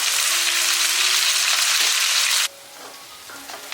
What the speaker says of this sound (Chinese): 再加入香菇，继续炒香